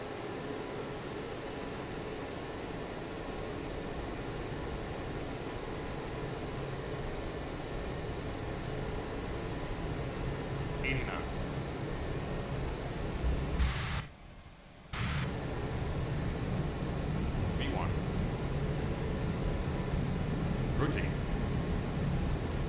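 Avro RJ-100 engines spool up in the Prepar3D flight simulator, a loud, steady broadband roar that holds throughout, dropping out for about a second midway before resuming, with faint talk over it.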